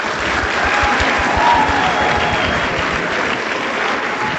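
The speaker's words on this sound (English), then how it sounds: "let's give a big round of applause to Cathy" An audience at a talk on student speech and press freedom applauds loudly, dense continuous clapping holding steady throughout.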